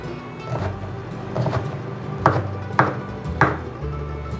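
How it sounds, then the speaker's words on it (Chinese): A knife dices king oyster mushrooms on a cutting board, several distinct sharp chops spaced about half a second apart, close and clear over a low background hum. "把杏鲍菇切丁"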